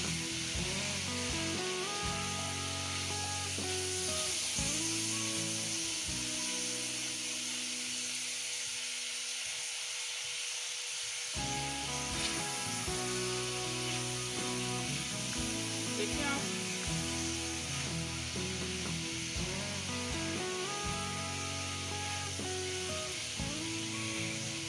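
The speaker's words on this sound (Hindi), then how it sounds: "कवर तो कर ही नहीं रही बिल्कुल, बस ऐसे 1 मिनट तक चम्मच चला रही हूँ।" Vegetables sizzle steadily in an uncovered pan while a spoon stirs them for a vegetable rice dish, the frying hiss constant and close with faint scraping movements throughout.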